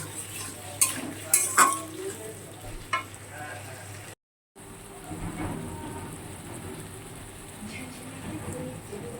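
Spice paste of cumin and ginger for a banana-flower mochar ghonto sizzles in a pan while it is stirred, with scrapes and clatter early on. The frying hiss then settles into a steady crackle after a brief dropout.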